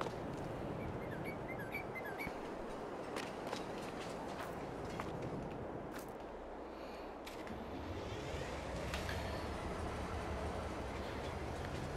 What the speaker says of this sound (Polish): wsiadamy w pociąg i jedziemy zwiedzać dalej pociągiem